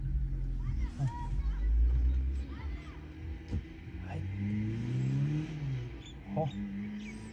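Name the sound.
cars driving off, engines accelerating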